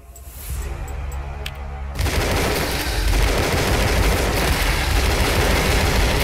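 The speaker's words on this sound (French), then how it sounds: "La petite bombe va faire du bien." A small bomb blast in the Switch game Tesla vs Lovecraft erupts suddenly into a loud, sustained crackling roar that keeps rumbling without fading, following a stretch of steady game noise.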